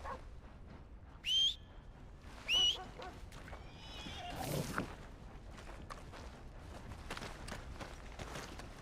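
Horse in Red Dead Redemption 2 after being punched, letting out two sharp, shrill whinnies close by, followed by a rougher snort and low background game sounds.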